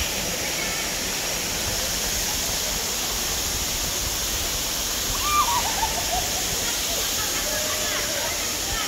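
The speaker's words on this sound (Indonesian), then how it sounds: "Menikmati indahnya alam Sanggau Kalimantan Barat. Lebih tepatnya air terjun Pancuraji." The Pancur Aji waterfall in Sanggau, West Kalimantan, a constant, even rush of falling water that holds steady throughout, loud and close, with no talking.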